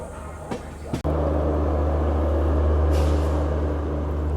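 A steady low droning hum from a train's end-on-generation power car running in a rail yard, preceded by a couple of sharp knocks and a brief break before the continuous engine drone settles in, loud and close.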